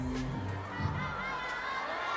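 A table tennis arena crowd at a women's singles match murmurs and chatters in a steady, distant wash, with a little cheering rising under it.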